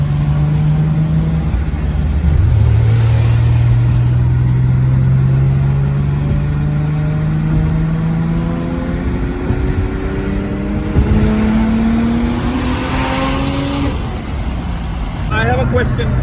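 An 800hp Nissan Skyline engine rumbling loudly and continuously, its pitch rising and falling through several steady sweeps as it revs, heard from close by and up front.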